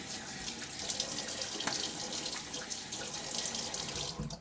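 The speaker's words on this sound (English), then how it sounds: "splash some water on my face" Running tap water at a bathroom sink with hands splashing water onto a face before a shave, a close, continuous gush with irregular splashes and a brief louder slosh near the end.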